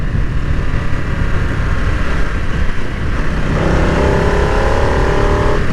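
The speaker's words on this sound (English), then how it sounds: "it has a great exhaust noise there." A 2022 Harley-Davidson Nightster in sport mode growls through its exhaust while riding, a loud continuous engine rumble under wind noise that rises in pitch as the bike accelerates.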